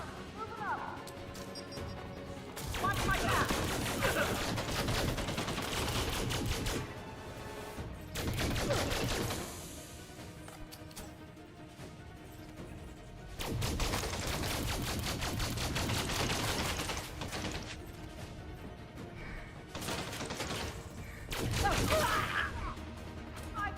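Video game gunfire in long bursts of rapid automatic shots, loud and sustained for several seconds at a time with brief lulls between bursts, while a voice talks over it.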